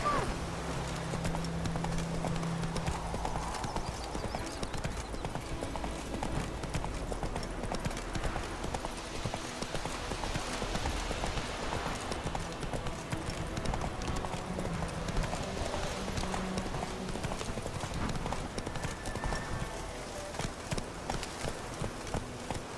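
The horse Roach gallops in The Witcher 3, with steady, rhythmic hoofbeats clip-clopping throughout over in-game ambience.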